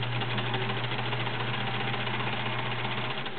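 A Sears Kenmore model 1774 sewing machine stitching through six layers of denim, a steady close mechanical hum with a rapid even needle rhythm running unbroken throughout, no voices over it.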